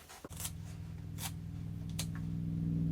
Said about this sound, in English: Now I'm going to get in there with my scissors, cut straight down the middle, all the way to that line